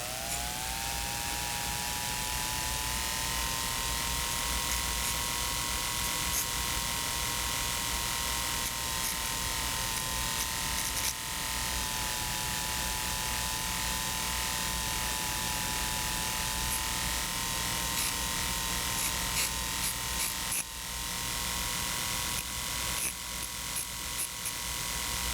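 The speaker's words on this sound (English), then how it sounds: "with a suitable carborundum stone, the 45-degree bevel is established around the periphery of the backing" A carborundum stone on a rotary handpiece grinds a 45-degree bevel around the edge of a dental backing, a steady high-pitched whine with abrasive hiss that runs unbroken and fairly loud for the whole stretch.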